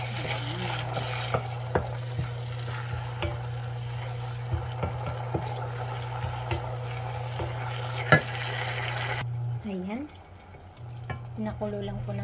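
Tofu sauce with a little water, made with ketchup, bubbling and simmering in a pan, a steady close sizzle with scattered small pops and stirring clicks, alone throughout with a brief dip in level near the end.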